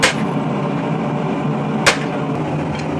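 Two sharp metallic hammer strikes on a chisel while hot-chiseling detail into a steel fantasy warhammer head, one at the start and one near the end, over a steady background hiss.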